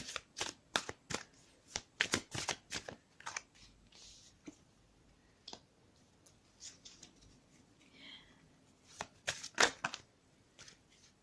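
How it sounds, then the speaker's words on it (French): Tarot cards being drawn and handled in a card reading: a quiet series of crisp, irregular card snaps and slides, clustered in bursts with brief pauses, close by and alone. "Je vais ensuite tirer deux cartes pour le domaine sentimental, affectif et puis émotionnel."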